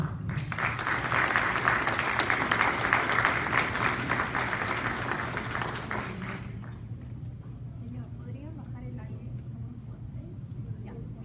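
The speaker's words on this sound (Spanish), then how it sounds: "Palmas para el maestro." Audience applause at an evening seminar on corruption and business, a dense burst of clapping for about six seconds that then dies down into quiet room sound with faint murmuring.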